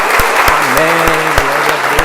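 Church congregation claps steadily and loudly throughout a worship service, with a sustained raised voice carrying over the dense applause.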